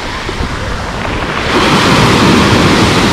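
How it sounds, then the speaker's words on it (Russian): Sea surf breaking on a beach at Lazarevskoye, Sochi, a steady broadband wash that swells louder halfway through, close and continuous with some wind noise on the microphone. "Пляж, море."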